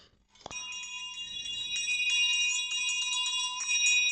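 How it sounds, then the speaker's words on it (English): A continuous electric bell marking the stock market open rings steadily for several seconds, bright and sustained, with no voices over it. "The market bell is going off."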